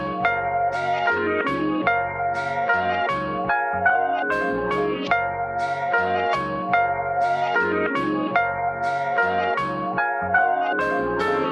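A lo-fi hip-hop beat built from two chopped samples plays loud and steady throughout, layered melodic stabs over a deep repeating low end with a rhythmic, looping pulse.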